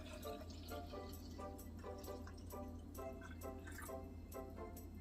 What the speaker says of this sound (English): we are going to pour it in our jars